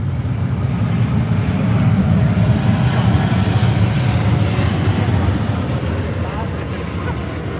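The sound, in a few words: Airbus A350 airliner landing at an air show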